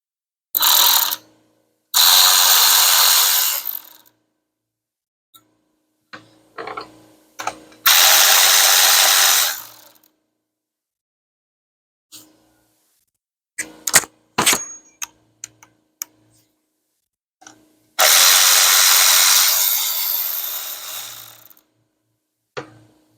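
Short bursts from a ratchet-style power tool break loose and spin out the 11 mm bolts on a BMW N54 high-pressure fuel pump, three loud whirring runs separated by quiet gaps with scattered clicks and clanks of metal.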